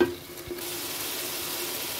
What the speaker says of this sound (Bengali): এখন ভাজা মাংসটা দিয়ে দিলাম, দিয়ে ভালো করে নাড়াচাড়া দিয়ে মিশিয়ে নেব